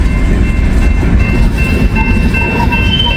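A slow coal train crossing over between tracks rumbles steadily and loudly on the rails, with faint wheel squeals toward the end and no talk.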